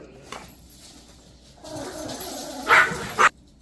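Dogs growl and snarl in a scuffle, with two sharp, loud barks near the end before it cuts off.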